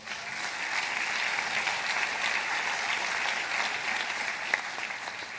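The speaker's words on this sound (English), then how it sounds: "Give yourself a round of applause." Graduates at a 2018 public affairs school commencement ceremony break into steady, sustained applause, a dense wash of clapping that holds evenly throughout with no speech.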